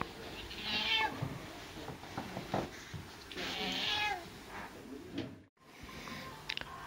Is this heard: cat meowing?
yes